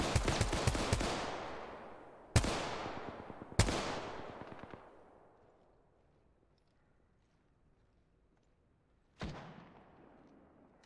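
Gunfire in Apex Legends: a fast burst of sharp shots, then two single loud cracks with long ringing tails fading into quiet, and one more distant shot near the end.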